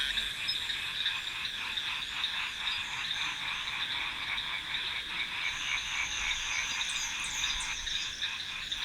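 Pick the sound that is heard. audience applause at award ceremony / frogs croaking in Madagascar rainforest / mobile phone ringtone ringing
frogs croaking in Madagascar rainforest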